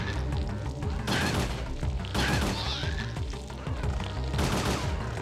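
Gunfire in the video game Parasite Eve 2 comes as dense, continuous bursts of rapid shots and impacts layered with game music and effects, loud throughout with brief gaps between volleys.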